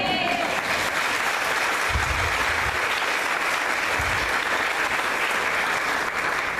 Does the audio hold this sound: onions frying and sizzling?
no